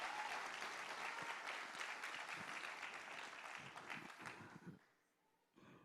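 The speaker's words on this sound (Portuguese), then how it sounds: "Se você está feliz, dê mais uma salva de palmas ao nosso Senhor Jesus." A church congregation claps together in steady, dense applause that fills the room, then tapers off and drops to near silence before a brief sound returns at the end.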